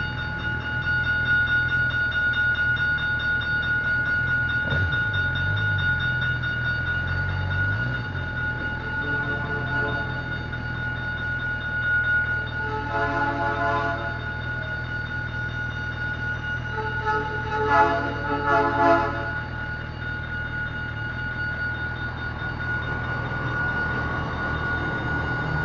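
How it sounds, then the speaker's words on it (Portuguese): A train rumbles past in Delmiro Gouveia, Alagoas, a loud steady rolling drone with a heavy low thump early on and clattering rail bursts building midway, continuing close by throughout. "Passando o trem."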